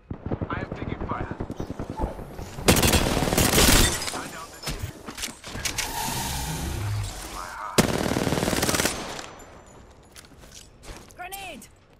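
Video game gunfire crackles in bursts amid a chaotic firefight, with loud rapid volleys around the middle and later, under frequent talk from players.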